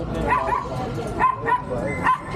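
A micro exotic bully dog gives a few short, sharp barks and yips close by, three quick bursts over a couple of seconds, with murmured background voices.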